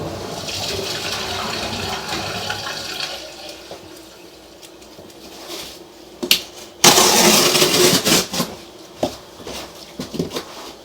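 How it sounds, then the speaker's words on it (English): A toilet flushes nearby with a low running rush of water that fades, followed by a loud surge of gushing water and clatter as the tank refills. "go ahead and flush it"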